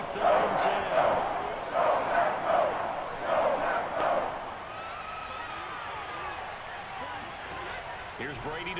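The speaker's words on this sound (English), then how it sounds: "Crowd getting in a bit already." Football stadium crowd at a Buccaneers game in the first quarter, a broad roar that swells in repeated waves, then settles into a steady murmur while a commentator talks over it.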